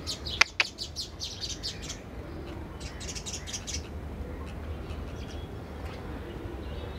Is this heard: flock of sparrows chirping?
yes